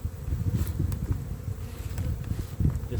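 Honey bees swarm around a hive where they feed on syrup, a dense, close, continuous buzzing with wings droning loudly and steadily throughout, and no voices.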